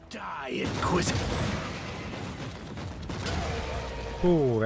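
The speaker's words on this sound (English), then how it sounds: "Oh, that was a fairly large explosion." Loud explosions and bursts of gunfire in a video game featuring Inquisitor combat, with a dense, rumbling blast near the start and a swell of booming effects toward the end, heavy game sound throughout.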